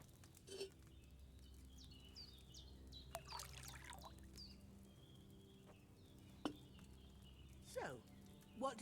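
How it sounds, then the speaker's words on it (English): Wine poured from a pitcher into a cauldron in the video game Kingdom Come Deliverance 2, a quiet liquid trickle over soft ambience with a few faint clinks and scattered bird calls. "First, you have to pour the right base into the cauldron."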